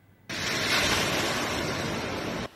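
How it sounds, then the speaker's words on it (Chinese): Sea waves surging over a long breakwater in Penghu during a typhoon-driven high tide, a loud continuous roar of crashing surf with wind noise, starting and stopping abruptly. "海水打过十里防波堤"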